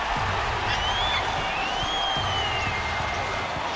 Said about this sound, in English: And now the crowd really getting into it.